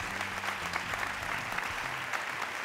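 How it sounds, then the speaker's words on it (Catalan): A theatre audience applauds in a steady, moderately loud wash of clapping that lasts the whole moment, with a faint low hum beneath it. "Un aplaudiment pel Pau"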